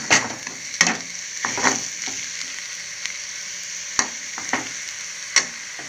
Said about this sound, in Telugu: మళ్ళీ ఫ్రై చేస్తాం